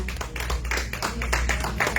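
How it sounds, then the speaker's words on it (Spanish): A congregation at a prayer service claps together in a steady, rapid rhythm, dense and fairly loud, with no voices standing out. "Dale un aplauso fuerte a Él en este día"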